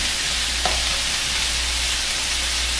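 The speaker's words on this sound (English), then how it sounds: "when I'm browning my onions. Kind of helps them sweat." Onions with a pinch of salt brown in a pan over medium-high heat for Cincinnati chili, giving a steady, close sizzle with a brief stirring scrape and no talk.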